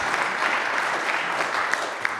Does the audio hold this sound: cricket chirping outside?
no